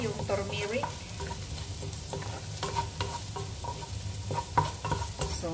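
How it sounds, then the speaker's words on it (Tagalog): Spices including turmeric sautéing in a pan, a dense close sizzle with frequent scraping and clinking of a utensil stirring against the pan. "masarap pag igisa yung mga spices"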